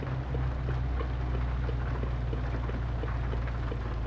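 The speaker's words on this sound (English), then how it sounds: "Oh, and it's also now starting to rain." Rain falls steadily in the Euro Truck Simulator 2 driving game, an even patter of drops over a low steady truck engine rumble, continuous throughout without speech.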